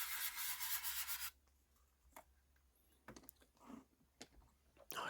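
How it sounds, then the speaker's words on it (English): Steady broadband rasping of sanding the spine of a 1/72 scale plastic model aircraft for about a second, then quiet with scattered light clicks and scrapes nearby. "here is me sanding down that spine."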